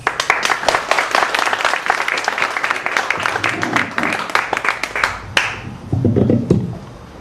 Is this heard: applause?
yes